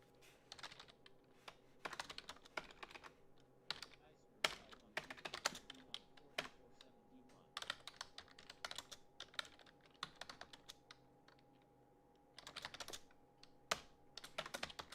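Fast bursts of typing on a computer keyboard, close and quiet, clicking in uneven runs separated by short pauses.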